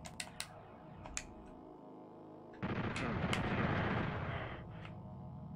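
In the PlayStation game Final Doom, several sharp shotgun blasts crack out early, followed by a loud, rumbling burst of in-game gunfire and explosions that slowly fades.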